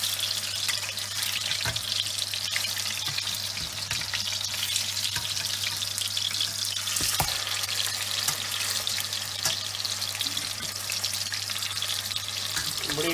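Keema kebabs made from raw minced meat fry in shallow oil with a steady, close, continuous sizzle and crackle that holds evenly throughout, with a few louder pops and no talking.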